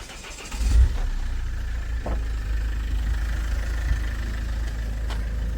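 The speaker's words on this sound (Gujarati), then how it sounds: "તો કરો ગાડી સ્ટાર્ટ" A car engine cranks and catches near the start for a family road trip to Dwarka, then settles into a steady, close idling rumble with no talk.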